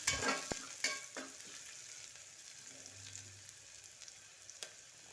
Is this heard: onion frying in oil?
yes